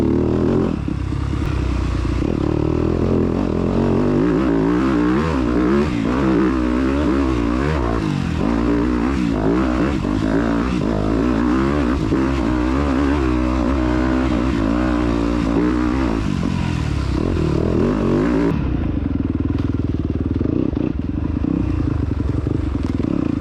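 A dirt bike rides cross-country through wooded trails with its engine droning loudly and continuously. The revs rise and fall and the bike rattles over the rough ground. The motor stays close and dominant, with no talk, then eases near the end.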